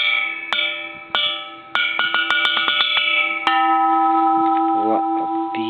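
A Japanese bronze Buddhist temple bell from 1888 is struck several times, each sharp hit followed by a bright, sustained metallic ringing with layered overtones that overlap and linger, loud and close.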